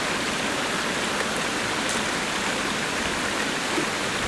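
Water trickles and splashes steadily through an improvised filter into a canteen, a close, continuous hiss of flowing water with no pauses.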